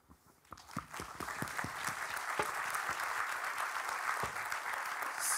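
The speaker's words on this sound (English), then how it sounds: "So thank you very much to our panel. A round of applause." A conference audience applauds a debate panel at a plenary session, a few scattered claps at first swelling quickly into steady, moderately distant applause.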